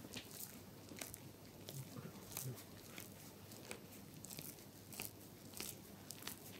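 Soft, dense crackling and crunching pops from a head during massage, close up against a steady hiss, like tiny cracks sounding repeatedly under rubbing pressure.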